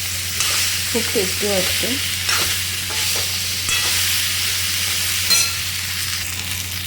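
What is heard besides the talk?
stirring cumin potatoes (jeera aloo) in frying pan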